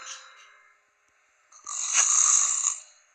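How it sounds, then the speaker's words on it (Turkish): A sleeping nun in the horror video game Evil Nun snores, with a brief breathy inhale, a short pause, then a louder drawn-out rasping snore, close and alone. "Adamda ne wow horlama var ya."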